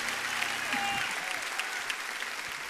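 A church congregation at a Sunday morning service at Igreja Batista Lagoinha breaks into dense, continuous applause that fills the room evenly, with a faint voice briefly under the clapping.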